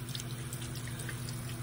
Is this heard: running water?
yes